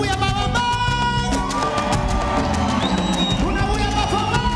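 Concert crowd at a tribute show cheering and whooping over loud live music, with shouts and yells rising from the audience throughout.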